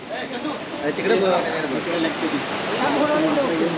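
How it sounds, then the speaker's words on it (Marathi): Steady rushing water from a large waterfall at Marleshwar in the green Sahyadri hills roars in the background while a person talks over it. "यातला सगळ्यात मोठा धबधबा समोरचा"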